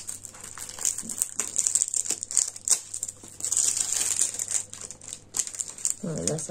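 Protective paper peels and crinkles off a diamond painting canvas in a close, continuous crackly rustle with small tearing bursts; a voice comes in briefly at the end.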